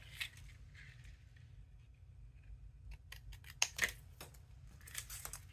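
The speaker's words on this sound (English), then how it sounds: "See, we'll cut this one off, and we'll cut this one off." Scissors snip through the cardboard of a pen box in a few quick, close cuts after a quiet stretch, with faint rustling in between and a low hum underneath.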